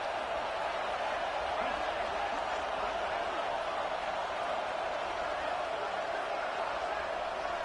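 Stadium crowd roar in a college football video game during a big third down, steady and dense throughout at a constant level with no clear breaks.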